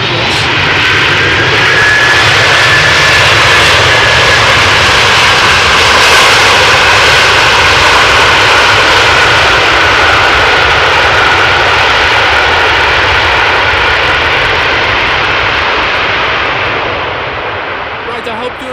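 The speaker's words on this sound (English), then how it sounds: "Without a doubt, the loudest landing to date for today." A jet aircraft lands at Amsterdam Schiphol Airport with a very loud, sustained roar that fills the whole stretch before easing slightly at the end, while a person talks over it.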